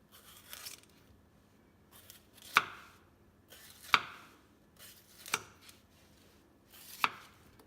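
Sharp knife strokes trimming a seeded pepper on a cutting board, four crisp clean cuts spaced about a second and a half apart, close and fairly quiet with soft handling noise in between.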